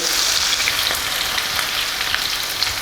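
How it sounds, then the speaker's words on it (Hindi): Chopped onions fry in a pan for mutton paya, giving a steady, dense sizzle close up with faint scraping from stirring throughout. "जो प्याज है हल्का हल्का गोल्डन होना शुरू हो गया है।"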